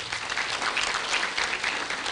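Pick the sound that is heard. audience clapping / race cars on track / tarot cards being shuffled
audience clapping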